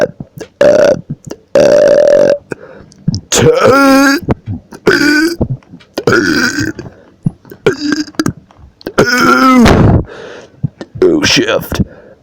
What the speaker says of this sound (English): I'm tired of burping